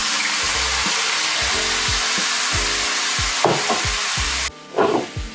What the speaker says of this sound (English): So I'll put in our steak and it's gonna sizzle for us